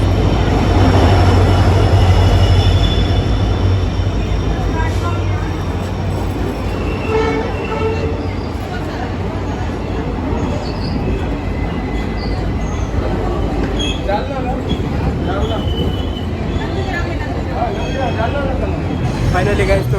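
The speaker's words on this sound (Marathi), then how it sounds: "आपल्या ट्रेनमध्ये आपलं सक्सेसफुली डिपार्चर झालेलं आहे" The 11402 Nandigram Express between Nanded and Mumbai rolls along, heard from inside a coach: a loud, steady rumble of wheels on rails with rhythmic clatter and occasional squeal, while people talk in the background.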